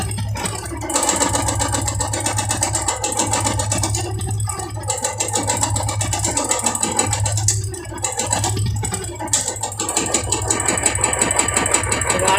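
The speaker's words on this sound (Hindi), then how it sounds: "टिक टिक टिक टिक का साउंड आ रहा होगा" A Royal Enfield Classic 350 idles steadily up close, its engine tapping out a fast, even mechanical ticking over a low thumping drone that runs unbroken throughout.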